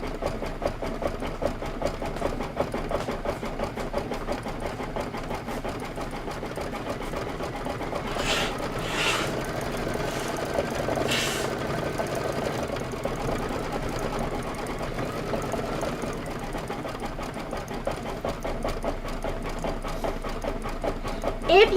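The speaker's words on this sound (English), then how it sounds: "here it's going to stitch out the shoes" An embroidery sewing machine stitches out shoe parts of a Kimberbell Cuties 2 March table topper design, a steady mid-level mechanical whir running throughout with a few brief higher clicks partway through.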